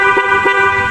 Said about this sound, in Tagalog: Dual horn.